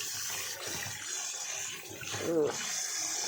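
Blanched rice noodles rinsed by hand in water at a noodle stall, giving a continuous splashing, trickling wash with a brief swirl near the end, heard close up.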